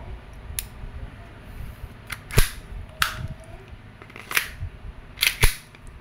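A WE airsoft Glock 17 Gen 5 pistol set to full automatic fires short, sharp bursts of snapping shots. Several separate clusters of crisp cracks sound close against a quiet room, with brief pauses between bursts.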